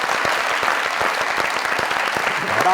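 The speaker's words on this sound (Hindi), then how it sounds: "बलोचिस्तान के लिए जोरदार तालियां।" A studio audience at a Pakistani comedy show claps loudly and continuously, a dense, close burst of applause throughout.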